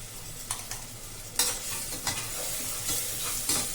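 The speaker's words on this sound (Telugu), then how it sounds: "పచ్చివాసన పోయే వరకు అల్లం వెల్లుల్లి పేస్ట్ అయితే వేయించండి." Ginger garlic paste frying with onions in a pan for a chicken pulao tempering, a steady close sizzle broken by a few sharper scraping stir bursts, with no voices.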